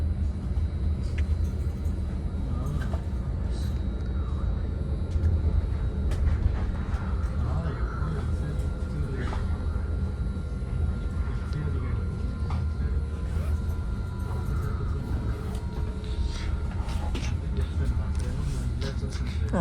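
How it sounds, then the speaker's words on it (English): Northbound local Caltrain 151 passes by a moving train, a steady low rumble with rattling and clatter throughout, heard from on board at moderate volume while someone speaks over it. "Here's Caltrain 151. That's a northbound local train making all stops to 4th and King Street Station in San Francisco."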